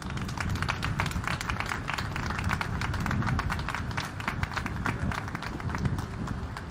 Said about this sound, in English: Can we please just give them a round of applause?